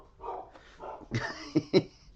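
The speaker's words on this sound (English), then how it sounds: "And the dog says hello too, Jared." A dog gives a few short barks close by in a home, two sharp yips near the end after softer sounds, with light talk around it.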